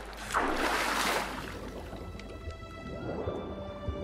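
Swimming through water in The Witcher 3, with soft liquid swishes and drips, a fuller splashing surge early on, then quieter watery movement, faint and close with no talking.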